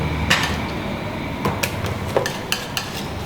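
Acrylic crackle paste being stirred and worked on a palette, giving a run of sharp scraping clicks and taps at close range, with no talk.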